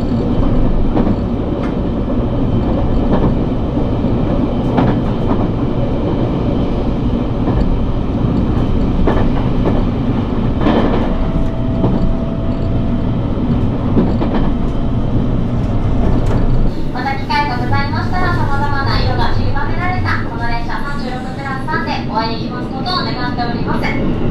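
The Kyushu sightseeing train 36+3 rumbles steadily along the rails with rhythmic clicking, loud and close throughout, with a brief high whine near the end.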